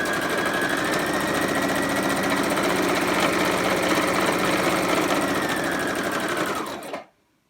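Electric sewing machine running steadily while stitching together the two fabric edges of a child's face mask, a continuous close whirring hum with rapid needle rhythm that stops abruptly near the end.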